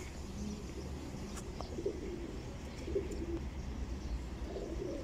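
Teddy and golden pigeons in a loft give a low, continuous cooing murmur at moderate distance, steady over faint background noise, with a few faint clicks and no talking.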